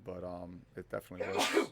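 A sudden sneeze bursts out at the end of a brief spoken phrase during a 9-10 ball rotation pool final, close and sharp, with talking just before it.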